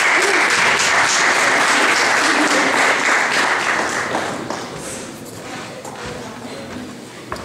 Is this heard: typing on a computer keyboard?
no